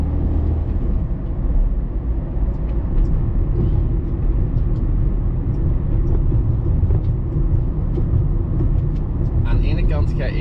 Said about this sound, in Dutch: En voor mij heel veel verkeer